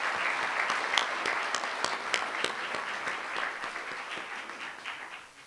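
Sustained audience applause at a Martin Luther King Jr. community celebration in Davis, dense clapping from a crowd in a hall, steady and fairly distant, gradually tapering off at the end with little talk.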